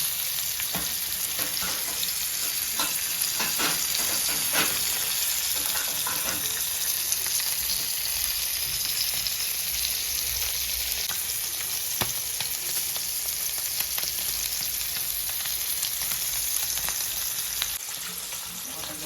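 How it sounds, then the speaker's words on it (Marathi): Bangda mackerel fried in hot oil with Maggi masala, a continuous dense sizzle and spatter close by, steady throughout with scattered sharper crackles and no talking. "चला तेल मस्त पैकी गरम झाले. आता त्याच्यात आपण बांगडा सोडूया."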